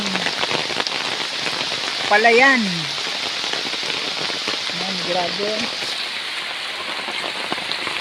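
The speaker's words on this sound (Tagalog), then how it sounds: "Walang tigil ang ulan." Heavy rain pours down in a steady, dense hiss throughout, with a person speaking briefly over the downpour.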